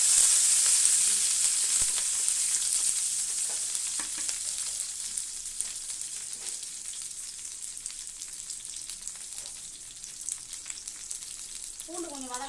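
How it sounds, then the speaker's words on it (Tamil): Steady high crackling sizzle of spices and curry leaves frying in hot oil for sambar, loudest at the start and easing slightly, with a few faint clinks and stirring sounds. "அடுத்த சிம்மில் வச்சுக்கோங்க, பொரிக்கலாம்."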